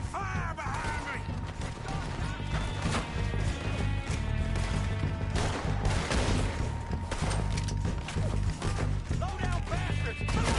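Chaotic shootout in Red Dead Redemption, with repeated gunshots and crashes scattered densely throughout, mixed with shouting and game sounds at a loud, busy level.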